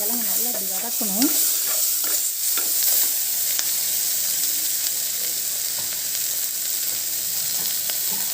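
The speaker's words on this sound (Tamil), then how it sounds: "கிழங்கு நல்லா இப்படி வதக்கணும்." Potato chunks sauté in a hot pan with ginger-garlic paste and tomato, a steady sizzle and frying hiss running throughout, with occasional scrapes and clinks of stirring at the start.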